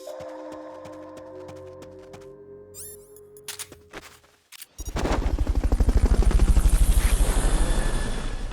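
A helicopter in the video game Metal Gear Solid: Peace Walker on Xbox 360 follows quieter game tones, then comes in loud and close about halfway through as a rapid, pulsing rotor chop.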